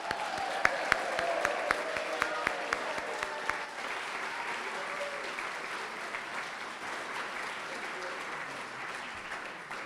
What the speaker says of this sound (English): Okay, now we can applaud.